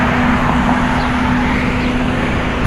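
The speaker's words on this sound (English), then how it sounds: "Why is this big loud truck driving in the right lane?" A big, loud truck rolls along the right lane in traffic near a Tim Hortons, giving a steady, heavy engine rumble with a constant droning hum that holds throughout.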